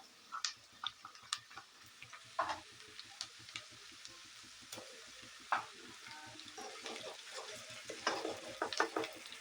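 Ginger-garlic paste and onions sautéing in a pan while being stirred for a vegetable pulao, heard as a soft continuous sizzle with scattered scraping ticks from a utensil, close by and fairly quiet.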